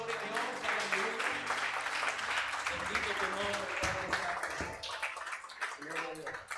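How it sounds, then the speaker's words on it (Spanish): Church congregation clapping in praise, a dense steady patter under voices and sustained musical tones, fading somewhat toward the end. "Que den un aplauso al Señor"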